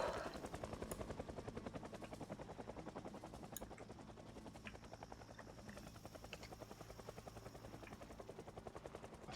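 A helicopter in the Project Zomboid video game throbs with a fast, steady rotor chop that holds through the whole stretch, fairly faint and distant-sounding, with no talk over it.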